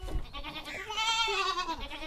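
A goat bleats once nearby, a wavering, drawn-out cry with no talking.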